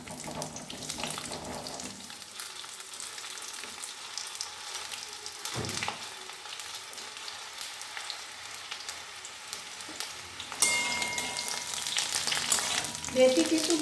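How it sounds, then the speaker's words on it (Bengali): Jujubes (kul) dropped into hot oil for a pickle, giving a steady frying sizzle with a brief splash as they go in, close and continuous, growing louder and brighter toward the end. "তেল গরম হয়ে গেছে, আমি এই কুলগুলো এই তেলের মধ্যে ছেড়ে দিচ্ছি"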